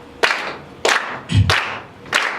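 Sharp, evenly spaced claps at a senior cabaret show, four crisp hits in a slow steady beat roughly every half second, with a dull thump between the second and third.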